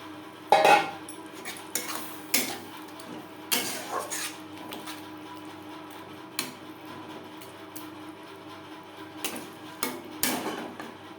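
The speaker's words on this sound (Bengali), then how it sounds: "মশলার সাথে গুঁড়ো মশলা বেশ ভালো করে মিক্সড করে দেবো মশলা কষাবার সুবিধার জন্য দিয়ে দেব সামান্য পরিমাণে জল" Ground spices with a little water are stirred in a pan for prawn malai curry, producing repeated close scraping clinks of a spoon against metal in an uneven rhythm, without talk.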